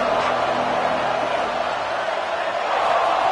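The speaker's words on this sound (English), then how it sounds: "This crowd ready to make its presence known." Football stadium crowd at a Texas A&M versus Arkansas game sends up a steady, dense roar that holds loud and even throughout, with no clear speech over it.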